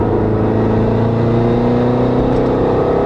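Turbocharged Subaru Crosstrek accelerating hard in third gear, a loud, close engine drone climbing steadily in pitch without a break, heard from inside the car with no talk.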